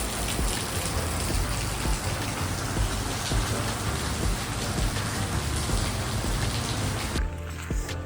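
Steady, heavy rain falls on a rainy coastal morning, a dense continuous hiss of drops hitting surfaces, loud and close, with no voices, then it cuts off abruptly near the end.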